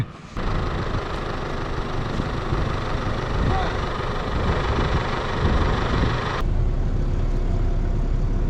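A steady three-litre, 240-horsepower tractor diesel engine idles close by, a constant rumbling drone that holds level throughout, then changes tone slightly near the end.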